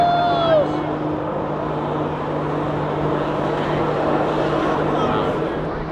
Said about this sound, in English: Let's put the jet ski engine on our feet.